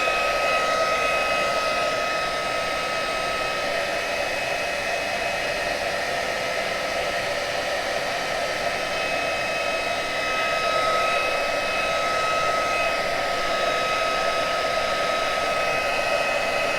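Hair dryer blowing steadily on a fresh acrylic painting, a constant close whooshing whine with no pauses and no talking over it.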